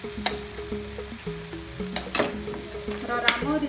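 A tomato and spice curry cooks in a pan, soft frying sizzle under scattered clinks and scrapes of a spoon stirring, with a faint tonal hum running beneath.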